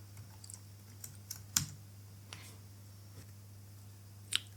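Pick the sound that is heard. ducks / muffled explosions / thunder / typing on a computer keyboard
typing on a computer keyboard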